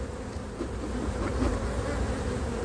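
A dense swarm of honeybees buzzes around an open beehive during beekeeping work, a loud, continuous, close drone with no talk over it.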